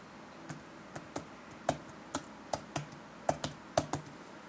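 Computer keyboard keys struck one at a time in an uneven, unhurried rhythm, about a dozen crisp clicks close up in an otherwise quiet room.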